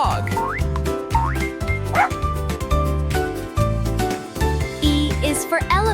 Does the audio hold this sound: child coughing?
no